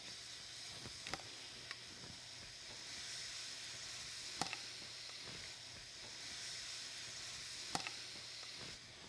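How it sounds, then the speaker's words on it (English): Vegetables and gizzards sizzle in a hot oiled skillet as a continuous crackling hiss, with occasional sharp spatters and stirring clicks, heard close with no talking. "Now add your vegetables and gizzards to your pan."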